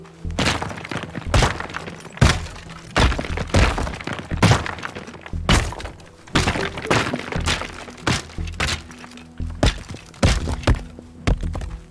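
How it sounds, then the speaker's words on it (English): Repeated heavy thuds and crumbling smashes as a sledgehammer breaks apart brick walls in the destruction game Teardown, loud impacts coming every second or so with debris rattling between strikes. "The sledgehammer is clearly going to be the right job for the tool."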